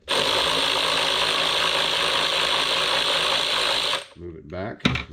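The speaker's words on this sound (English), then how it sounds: "we're actually tightening the adjuster in the back" Ratcheting headlamp adjuster on a Mercedes-Benz W126 being tightened from the back of the headlight, a dense continuous mechanical clicking held steady for about four seconds before it stops, leaving a few quieter handling noises.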